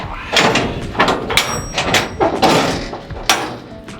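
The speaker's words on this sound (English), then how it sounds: "let me open up the other door" A steel shipping container door is pulled open with loud metallic clanks, scrapes and creaks, several sharp bangs in close succession nearby.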